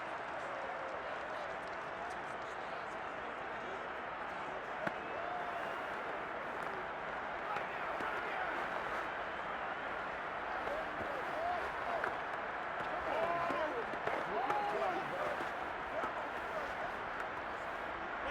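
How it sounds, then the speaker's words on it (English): A stadium crowd roars steadily in a Madden 22 NFL simulation of a Packers vs. Chiefs Super Bowl, a dense wash of cheering that swells slightly toward the end under commentary. "the crowd getting into it as we come up on a big 3rd down"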